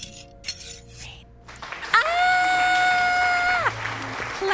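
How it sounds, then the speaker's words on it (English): Clapping and cheering in a video game, with a crowd-like burst of applause beneath a rising, sustained musical chime and tonal effects, preceded by brief clinking game sounds. "Clapping all around for everyone."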